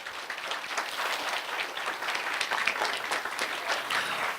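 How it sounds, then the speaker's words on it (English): An audience at a DARE graduation held at a golf club applauds fifth graders, a steady, fairly close run of many hands clapping with no talk over it. "Everyone, a round of applause for our fifth graders."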